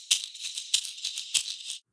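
Three bright shaker bursts from a phone shaker app, hissy and rattling, each a quick accent followed by a sustained shake, then silence.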